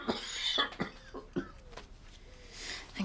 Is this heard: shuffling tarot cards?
no